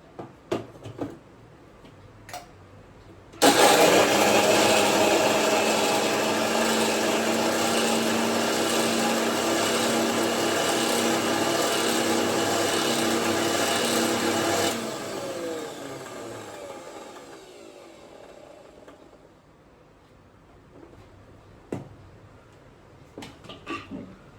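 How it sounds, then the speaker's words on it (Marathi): A mixer grinder starts abruptly and whirs loudly for about ten seconds grinding raw mango, then slows and winds down, with light clatter before and after. "आधी मिक्सरमध्ये मी कैरी घातली"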